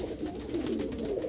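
Antique pigeons on a rooftop giving soft, low, continuous cooing, fairly faint and steady, with no voices over it.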